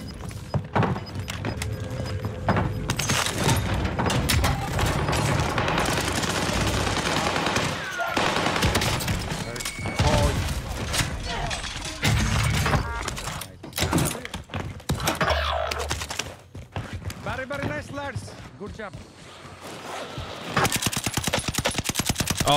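Video game gunfire crackles almost continuously amid a dense, busy soundscape, with rapid bursts and scattered shots, loud and close, layered over thuds and other game noise.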